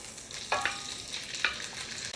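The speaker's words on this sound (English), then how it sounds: "Bit of oil, and we're going to fry up our chicken." Chicken chunks frying in a bit of oil in a pan, a soft steady sizzle with a few brief scraping stirs near the middle, close and fairly quiet with no talking.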